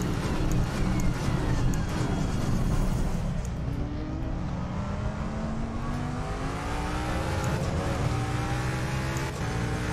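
Jaguar G3 race car in Assetto Corsa Competizione at Monza, its engine droning steadily and loud throughout with rising and falling revs as gears change, other cars audible in the mix.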